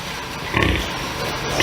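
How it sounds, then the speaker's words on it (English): A first-parity gilt nursing her litter of piglets in a commercial showpig barn, giving soft, steady low grunts with a slightly louder burst midway, continuous and close. "So this gilt is nursing these pigs."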